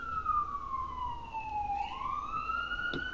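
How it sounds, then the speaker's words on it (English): An emergency vehicle siren wails near a hospital, one long tone gliding slowly downward and then sweeping back up, moderately loud and continuous over a low background hum. "I live next to the hospital, so it's okay. a lot of sirens, unfortunately"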